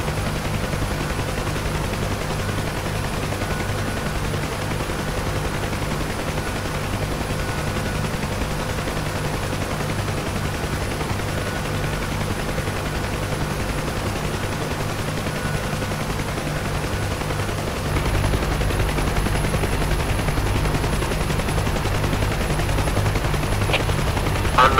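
A UH-1H Huey helicopter in the DCS game drones on steadily with a constant rotor thump and engine whine, loud and close for the whole stretch, growing slightly heavier toward the end.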